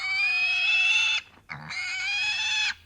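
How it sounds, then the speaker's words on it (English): A pig squeals loudly while being restrained for ear tagging, two long piercing shrieks separated by a brief grunting pause, close and harsh with no talking. "Be sure to protect your hearing from their naturally loud squeals."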